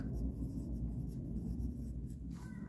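A pen writes answers onto a Class 2 Hindi test paper, a steady close scratching that runs without pause for a few seconds with no talking.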